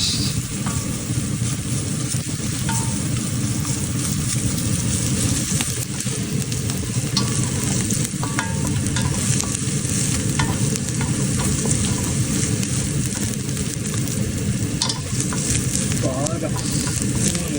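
Chicken masala is stirred and fried in a pan with a loud, dense, continuous sizzle and crackle, and a spatula scrapes and turns under it, close up, with a faint voice in the background.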